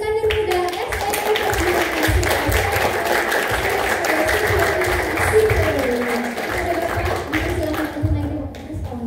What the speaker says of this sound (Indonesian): mari kita sambut dengan tepuk tangan yang hangat Profesor Dr. Iskandar Muda